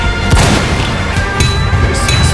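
Explosions during a boss fight in the video game Fire Force Reignition, dense booming blasts layered over continuous game noise, loud and close throughout.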